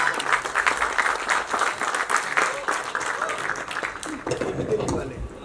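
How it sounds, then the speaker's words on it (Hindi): Loud, dense audience applause rings out at a film trailer launch event, sustained clapping with a few shouts, easing slightly toward the end. "जोरदार तालियां हो जाए"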